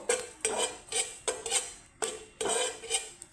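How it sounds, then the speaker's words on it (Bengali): A spatula scrapes and knocks in a pan of panch phoron five-spice being fried, about eight sharp metallic strokes in an uneven rhythm, close and fairly loud, with a light sizzle between them. "পাঁচফোড়নটাকে একটা গন্ধ চলে আসে অবধি আমি ভেজে নেব"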